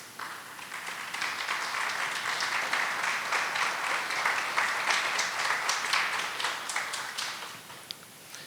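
Audience applause at a municipal debate in Trois-Pistoles, with steady broadband clapping that holds for about eight seconds and tapers slightly at the end, no voices over it.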